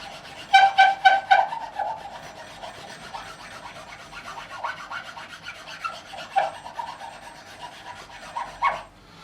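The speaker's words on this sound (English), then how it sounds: "So we're rounding the back of the nut, and that's just going to take away any corners and any edge in there." A file rasps back and forth on the nut of a Gibson ES-335 guitar, rounding its back edge, in a few rapid strokes at first and then slower, softer scraping passes close to the microphone.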